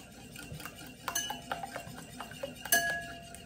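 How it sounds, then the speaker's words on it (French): A spoon stirs yogurt into pancake and cookie batter in a bowl with salt and oil, giving a steady run of soft scrapes and light metallic clinks against the bowl, close and fairly quiet. "On mélange le yaourt"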